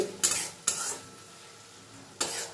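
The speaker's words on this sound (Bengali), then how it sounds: "আমি একটু সময় ধরে এই মশলাটাকে কিন্তু খুব ভালো করে কষিয়ে নেব" Tomato puree and spice paste frying in a pan over a low flame, stirred with a utensil: three distinct scraping stirs ring out over a soft, steady sizzle, close and fairly loud.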